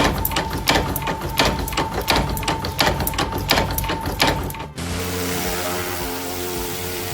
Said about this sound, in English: a flat sheet of metal is punched and pressed into a smooth, curved shape of a finished tablespoon